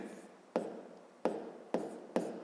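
A pen writes a maths expression by hand, four short distinct scratching strokes spaced about half a second apart, close and quiet, with no voices.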